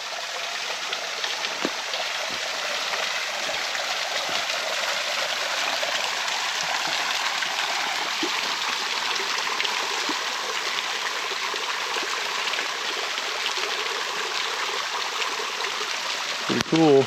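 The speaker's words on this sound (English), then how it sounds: "Little waterfall." A small waterfall on Cedar Creek in the Shawnee National Forest pours into a pool, giving a steady, fairly quiet rushing hiss that holds evenly throughout.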